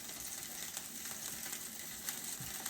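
Beef tips sizzle in oil in a pan for a second batch of hearty beef stew, a steady, fairly quiet hiss with faint crackles and small pops, close by, with no talking.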